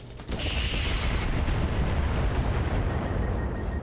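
An incendiary weapon fires continuously at a pirate in a video game, a loud, dense roar that starts abruptly and holds steady without a break.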